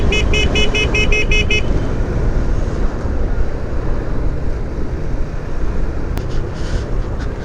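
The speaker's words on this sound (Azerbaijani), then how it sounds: "ona görə ona siqnal verdim ki" A motorcycle horn gives a quick run of short toots in traffic, then a steady engine and road rumble carries on.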